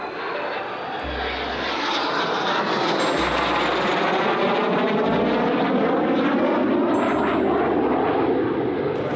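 Airplane flying an aerobatic figure at an air show: a loud, continuous engine roar that rises and falls as the aircraft passes and swoops, lasting the whole stretch with no voices.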